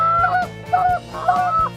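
During a river duck hunt, waterfowl give three loud, close honking calls in a steady rhythm, each a short two-part blast, with no voices.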